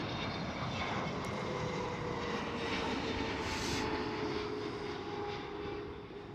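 A fixed-wing airliner approaching at Amsterdam Schiphol airport, its engines making a steady, loud roar with a whining tone that holds throughout, with no voices over it.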